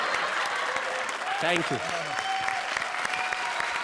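Audience applause at a comedy show's grand finale for a performing duo, a steady wash of clapping running throughout while a voice briefly speaks over it.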